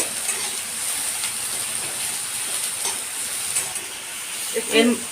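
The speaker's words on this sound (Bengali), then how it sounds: "তেলের মধ্যে একটু পেঁয়াজ কুচি দিয়ে দিচ্ছি একটু পেঁয়াজটা ভেজে নেব" Chopped onion frying in oil in a kadai, a steady close sizzle and hiss with occasional stirring scrapes and a brief clatter near the end.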